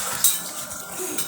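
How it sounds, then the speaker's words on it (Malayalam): Ingredients are mixed in a bowl, with soft scraping and a couple of light clinks of utensil against the bowl, close and fairly quiet. "നല്ലോണം മിക്സ് ചെയ്ത് കൊടുക്കണം."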